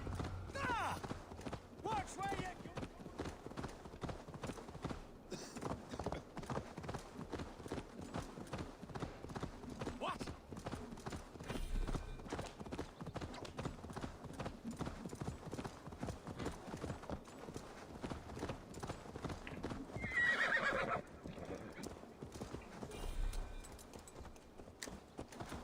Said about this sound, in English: Assassin horse, we ride!